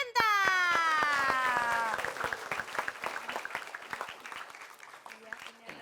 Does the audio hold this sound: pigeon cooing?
no